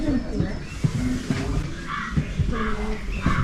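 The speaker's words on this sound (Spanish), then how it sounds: "Típico cuervo." Crow cawing at an outdoor Viking-age settlement museum in Aarhus, Denmark, a few harsh calls rising over ongoing chatter and background noise.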